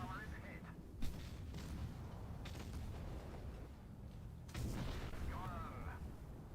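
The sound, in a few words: tank gun shot in a video game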